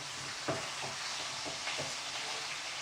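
Meat searing in a hot pan after being flipped, a soft continuous sizzle with a few brief spatters and pops, fairly quiet and close, with no speech.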